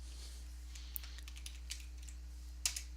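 Light, sparse keystrokes tap on a computer keyboard while code is entered, a few faint individual clicks over a steady low electrical hum.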